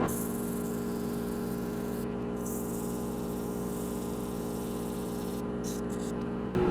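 A dust collector runs steadily in a woodturning shop, a continuous broadband whoosh and hum with no talking over it, ending abruptly near the end as it shuts off.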